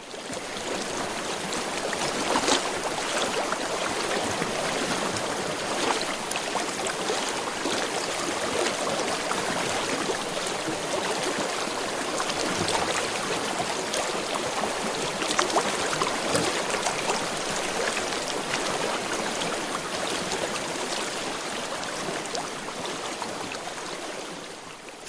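A snowmelt-fed river rushes past, its continuous churning water roar steady and full, with small splashes and trickles flickering through the constant flow.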